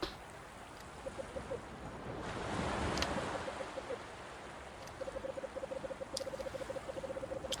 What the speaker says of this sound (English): From the darkness, an orange glow, and from the silence, the crashing of waves.